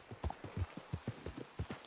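Horse hooves clip-clop in a steady, quick rhythm in a video game, about a dozen hoof falls over roughly two seconds at moderate distance, with no talk over them.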